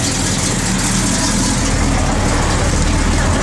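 A 1969 Chevrolet Chevelle SS big block V8 runs steadily at idle, a loud, continuous low rumble throughout.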